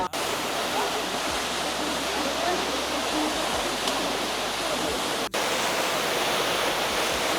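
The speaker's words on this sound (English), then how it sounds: "We've reached the waterfall." A waterfall in Morocco's Ourika Valley roars as a steady, loud, broadband rush of falling water, close by and unbroken for several seconds.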